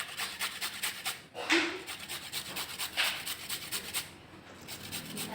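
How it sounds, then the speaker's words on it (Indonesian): Black turmeric (temu ireng) root grated by hand for homemade jamu, a soft rhythmic scraping and rubbing that repeats in quick strokes, close and fairly quiet with no talk. "Nah, sebelumnya kita parut dulu."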